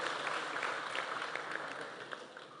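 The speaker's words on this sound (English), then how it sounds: "Let us applaud them." An audience at a certificate graduation ceremony of the Kenya Institute of Development Studies gives steady, dense applause, a continuous patter of many hands clapping at moderate volume with no voices above it.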